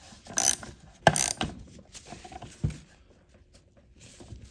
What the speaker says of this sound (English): I'm gonna go ahead and grab a socket and tighten these up.